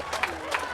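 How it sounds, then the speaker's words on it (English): At a women's doubles pickleball semifinal, a crowd cheers and applauds in a brief swell, the noise heard at a distance. "crowd goes wild"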